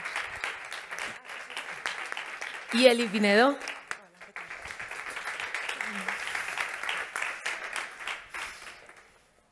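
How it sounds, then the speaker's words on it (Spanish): An audience at a women's sport summit applauds as panelists are introduced, with steady clapping running under a presenter's voice and a brief cheer partway through, then fading out. "Un fuerte aplauso también para ella."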